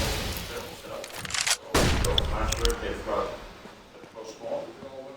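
Gunfire in a professional CS:GO match at StarLadder Berlin 2019, with a sharp loud burst of shots midway and scattered distant shots around it, under continuous excited commentator talk.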